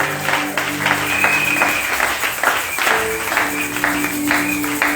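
A church congregation applauding during a Feast of Tabernacles service, with dense, sustained clapping that swells and fades and mingles with an ongoing crowd murmur.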